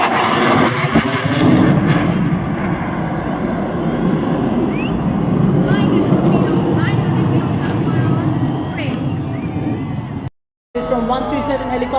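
A helicopter formation from the Indian Air Force's 137 Helicopter Squadron passes at a Republic Day parade, its loud, broad rotor and engine roar filling the air over crowd noise and a public-address announcer.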